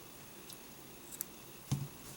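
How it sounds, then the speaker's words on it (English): A single quick snip of scissors cutting through knitting yarn while finishing knitted baby booties, a brief soft click near the end in a quiet room. "And now we can cut."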